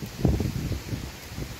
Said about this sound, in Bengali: কি ভালো হাওয়া ছেড়েছে।